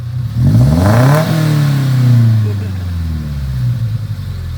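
A 2015 Subaru Impreza fitted with a huge muffler revs sharply up to around 5,000 rpm, then the engine note falls slowly back toward idle; loud and close, with voices partly audible over it.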